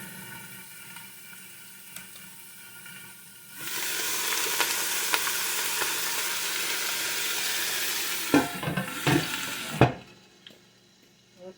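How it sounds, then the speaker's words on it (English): Oil poured into a hot pot for a Cornish hen and fig stew bursts into a loud, steady close-up sizzle after a quiet start, followed by a few clattering knocks before it cuts back to near silence. "I got to put some more oil in here."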